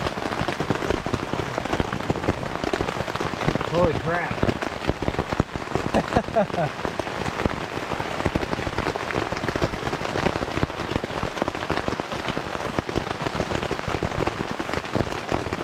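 Heavy rain drums hard and steadily on a NatureHike Vik 2 tent, dense and unbroken, with one short startled exclamation partway through.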